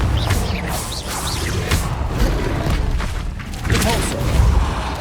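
Confringo fire spell blast in Hogwarts Legacy, several booming whooshes and crashes in quick succession amid busy combat effects, loud and close.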